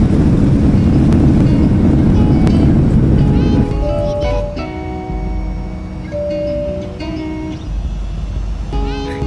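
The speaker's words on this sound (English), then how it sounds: "as we go into that right dip, you can hear that gust of that wind shear come in big time" Wind shear gusts buffet a Boeing 767-300ER on approach in the X-Plane 12 flight simulator, a loud broadband roar of rushing wind that swells strongly at first, then eases under engine tones and cockpit chimes.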